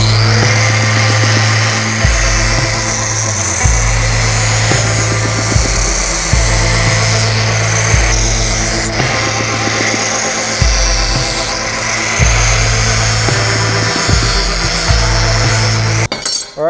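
Power tool grinding slag off rough-finished handmade knife edges, a loud steady whine broken into repeated passes of a few seconds each, with brief dips where the tool lifts off the steel.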